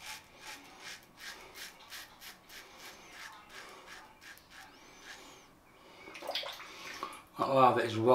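A brush works Swedish Witch Rosemary & Spice shaving soap into a lather with rhythmic, wet, soft swishing strokes, close up. A louder splashing sound and a brief voice follow near the end.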